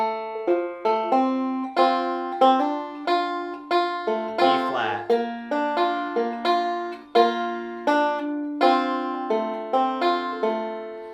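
A banjo plays a quick bluegrass picked phrase from Precious Memories, bright plucked notes with pinches and a partial roll, steady and close, with a brief spoken word in the middle.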